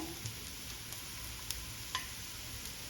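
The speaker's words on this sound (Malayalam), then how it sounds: "ഇനി മഞ്ഞൾപ്പൊടി ഒന്ന് ഒന്ന് മൂത്ത് വരട്ടെ" Onion and turmeric powder roasting in a pan, giving a faint, low sizzle with a few light ticks from a spoon, close by and without any voices.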